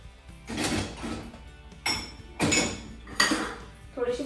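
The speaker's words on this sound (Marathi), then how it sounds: "तर मी आता डिशवॉशर लोड करणार आहे" Cups and bowls are set one after another into a dishwasher rack at home, making several sharp clinks and clatters of crockery, with brief pauses between each.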